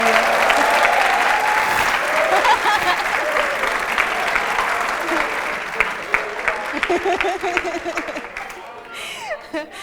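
A studio audience claps steadily for a television host on a French-language TV programme, a dense, sustained round that slowly thins toward the end as scattered voices come through.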